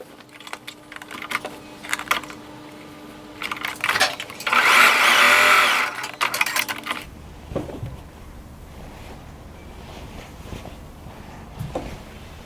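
A sewing machine runs in short bursts and one longer stretch while stitching a shorts pocket to the front piece, close and mechanical, with pauses and small handling clicks between runs.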